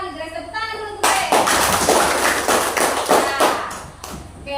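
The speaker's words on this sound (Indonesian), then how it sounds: "Grace, tepuk tangan dulu, Grace." A school class claps together in a quick, rhythmic burst lasting a few seconds, preceded by a voice speaking briefly.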